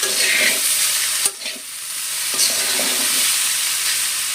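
Bitter gourd fries in a pan, a steady bright sizzle of hot oil with a couple of sharp spatula taps and scrapes, close and loud, with no talk.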